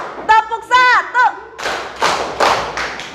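Children in a primary classroom clap hands together in a counting game, a few loose claps first, then a series of fuller, ragged group claps a few beats apart, following a teacher's voice heard beforehand.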